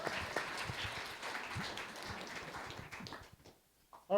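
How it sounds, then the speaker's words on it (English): Audience applause for an investor panel, a moderate round of clapping from a seated crowd that fades out after about three seconds, followed by a brief sound at the end. "Applause."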